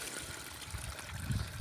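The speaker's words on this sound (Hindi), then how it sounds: "इस तरफ से जाता हुआ ये पानी गिर रहा है" Water running along a channel and pouring down into a pit, a steady close rush and trickle with a low gurgle that holds without a break.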